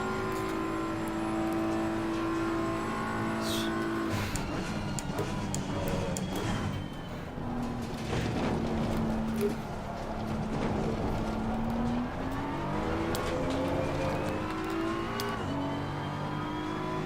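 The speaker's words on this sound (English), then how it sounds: "There's the rev limiter again there" A BMW M4 GT3 race car engine in Assetto Corsa Competizione, loud and close, revving hard with rising and falling pitch and sustained stretches held against the rev limiter, punctuated by gear-change blips and bangs.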